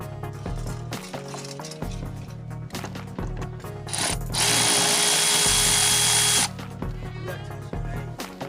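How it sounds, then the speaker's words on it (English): A power driver with an 8mm socket loosens the intake hose clamps on a 2002–2010 Mercury Mountaineer 4.6L V8, giving a loud, steady whirring burst of about two seconds over a soft tonal background. "You can use a flathead screwdriver or an 8mm socket to loosen the clamps."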